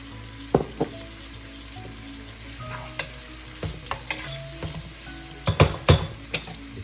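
Shrimp and squid sizzle in a pan for pancit palabok, a steady frying hiss broken by occasional sharp utensil scrapes and clanks against the pan, close and without talking.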